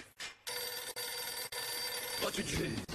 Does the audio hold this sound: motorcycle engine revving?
no